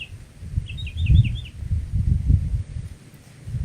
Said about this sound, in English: You might hear the birds or the breeze from here